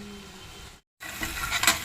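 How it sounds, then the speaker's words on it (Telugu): Sliced onions frying slowly over a low flame in a pan make a close, steady sizzle, broken by a brief silent gap, then a louder hiss with a few stirring scrapes near the end. "ఉల్లిపాయలు 5 మినిట్స్ వేగనివ్వాలి"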